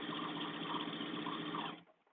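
Close, steady whir of a sewing machine stitching a Delphine duster garment, running evenly for under two seconds before cutting off.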